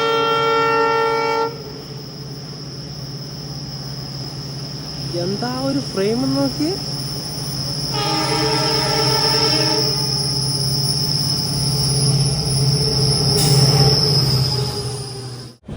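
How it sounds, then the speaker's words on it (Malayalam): The Panchaganga Express, pulled by a diesel locomotive, rolls past on the Konkan Railway in light monsoon rain, with loud steady rumbling and wheel squeal throughout, a sustained horn-like tone and brief talk partway through. "പഞ്ചഗംഗ എക്സ്പ്രസ് ഇതാ കടന്നു വരികയാണ്."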